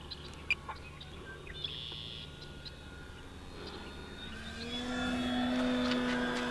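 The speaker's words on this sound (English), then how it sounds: "Abby, that is probably one of the highest planes I've had up in a very long time." A lightweight foam RC airplane flies high overhead as a steady motor whine that rises and grows louder toward the end, with faint background noise and no talking.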